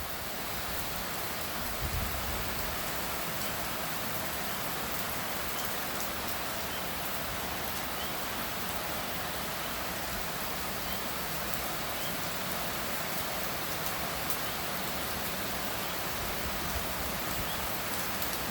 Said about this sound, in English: this looks like a mild shower maybe coming through